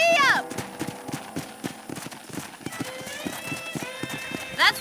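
Hooves clip-clop in a quick, steady galloping rhythm, with a horse whinnying at the start and end and a voice speaking briefly over it, in the video game Red Dead Redemption.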